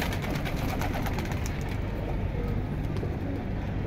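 Pigeons at a market sale of racing-line birds, soft low cooing repeating under a steady background murmur, fairly faint and mixed with other noise.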